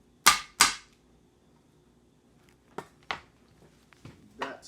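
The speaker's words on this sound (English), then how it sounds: "Add that to the mortar and pestle too." Ginger is pounded in a mortar and pestle, giving two sharp close knocks followed by a pause, then a few softer thuds and a light scrape.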